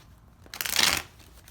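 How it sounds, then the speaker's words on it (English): Tarot cards being riffled in a single quick shuffle, a loud papery burst lasting about half a second in an otherwise quiet room. "One more shuffle, Jimmy."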